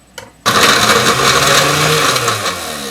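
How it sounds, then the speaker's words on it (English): A blender whirs to life at full speed after a brief click, a loud, steady high-pitched motor roar with a slight wobble as onion chunks churn. "We'll see if our blender likes these chunks."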